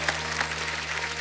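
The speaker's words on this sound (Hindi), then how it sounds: "उनके लिए जोरदार तालियां हो जाएं।" A television comedy show's studio audience claps loudly in a brief, dense burst of applause under a low steady hum.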